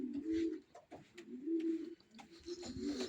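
Male homing pigeons coo repeatedly in low, throaty rolling calls, with soft rustles and faint chirps between them.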